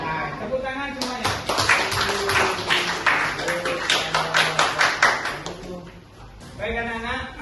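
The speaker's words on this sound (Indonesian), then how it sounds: "tepuk tangan semuanya" Hands clap in a classroom of students, a run of sharp claps overlapping with a teacher's speech, fairly close and moderately loud.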